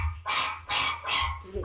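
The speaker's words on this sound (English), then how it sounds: "Dogs barking." Several dogs bark in short repeated bursts picked up by a home security camera indoors, three loud barks in quick succession close to the microphone, with a low steady hum underneath.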